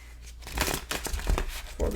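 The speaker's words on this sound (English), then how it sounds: "there's another deck here, so I'll just give it a few shuffles." Tarot cards being shuffled during a card reading, giving a few quick papery riffles and crinkly rustles in short bursts, close and moderately loud, with no speech.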